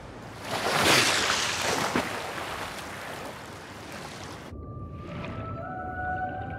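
A dolphin calls underwater in the sea, rising whistles appearing after a rush of surging water and wave noise, clear and fairly close.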